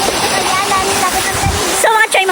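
Steady broadband rush of a waterfall at a swimming spot, close and continuous, with people talking and calling out over the roar.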